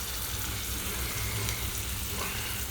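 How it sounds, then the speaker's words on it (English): Turkey and potato goulash sautéing in a pan, a steady low sizzle and crackle of frying that runs evenly throughout without pause, close by and fairly quiet, with no voices. "So I'm going to saute this up a little bit until it starts changing colors as well."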